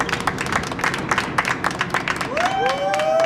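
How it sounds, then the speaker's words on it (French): Audience applause on a French football chat show, with a burst of clapping and some cheering from the crowd, followed near the end by a rising whistle. "Messieurs, dames, on applaudit, s'il vous plaît, pour Antoine."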